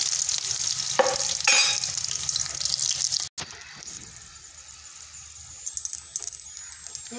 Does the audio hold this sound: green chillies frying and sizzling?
yes